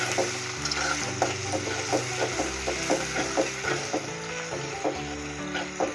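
A ground paste of garlic, ginger and black pepper frying in a pan for a Kottayam-style fish curry, a continuous sizzle broken by regular scraping strokes of a spoon, close and clear with no talking.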